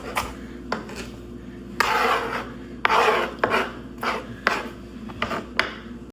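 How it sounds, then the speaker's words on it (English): A knife scrapes and shaves a carrot clean in a series of short, rough rasping strokes, uneven in rhythm and close by, in a kitchen. "I'm shaving the carrot so I can clean it."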